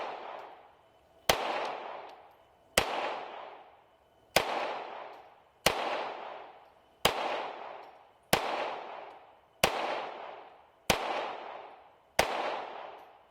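A run of ten sharp .22 LR pistol shots from an FN 502 at an outdoor range, fired at a steady pace about 1.3 seconds apart, each crack followed by a short decaying echo, with no talking.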